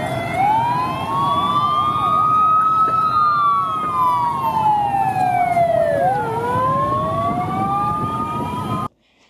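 An ambulance siren wails continuously in long rising and falling sweeps, loud and close, then cuts off abruptly near the end, with no voices over it.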